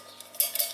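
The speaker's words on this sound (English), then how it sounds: "It's the Pathfinder stainless steel mug." A Pathfinder stainless steel mug being handled in a bushcraft cook kit, giving a few quiet metallic clinks and taps, with sharper knocks in the second half and no talking.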